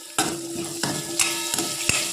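Onion and curry leaves sautéing with whole spices, ginger and garlic in a pan for dal, a soft sizzle broken by a few sharp metallic spatula knocks and scrapes, close and fairly quiet.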